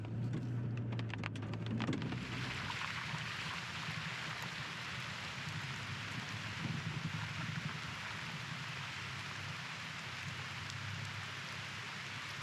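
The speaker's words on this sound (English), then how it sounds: "All right, so it doesn't appear the rain is gonna stop." Rain patters steadily on a camping truck while overlanding, a dense continuous hiss of drops on the roof after a brief burst of clatter at the start.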